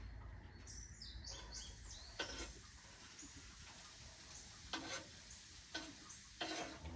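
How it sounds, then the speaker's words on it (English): Soft, steady sizzling of onions frying in bacon grease in a pan, with occasional stirring scrapes and faint bird chirps in the background. "go ahead and get my onions frying"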